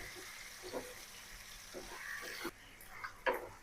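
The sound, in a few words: chicken meat frying with onions in a pan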